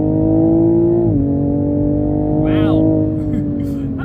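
A 2021 Toyota Supra GR pulls hard at full throttle from around 104, its engine a loud steady drone that rises in pitch through a gear change, heard from inside the cabin with no talking.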